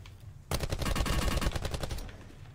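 A rapid burst of automatic gunfire from a shooter video game rattles for about a second and a half, dense and sharp, then cuts off, with no talk over it.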